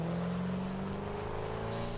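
A car engine drones steadily in the video game Satisfactory, a continuous low hum with a faint high tone near the end.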